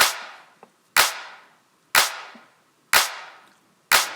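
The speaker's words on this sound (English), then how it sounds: "let me play the main clap in this project" A punchy clap sample in a music production project, struck four times at an even one-second pace, each hit sharp and bright with a short decaying tail, heard alone.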